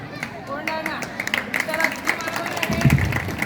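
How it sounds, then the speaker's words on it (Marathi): Audience applause after a correct answer at a general-knowledge quiz program, a brief burst of scattered clapping from a nearby crowd mixed with background chatter. "टाळ्या वाजवायचे."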